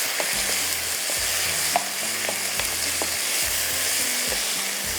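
Onions frying in a pan until browned at the edges, a dense continuous sizzle with soft spoon knocks and stirring, close and without speech.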